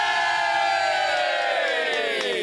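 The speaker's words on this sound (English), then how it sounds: "What a big crowd we've got in the studio. Certainly a lot of big voices." Large crowd cheering and whooping together in a radio studio during a live radiothon, loud and sustained with many voices blending into a continuous roar.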